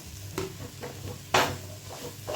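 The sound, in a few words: mushrooms added to masala in a pan, frying and stirring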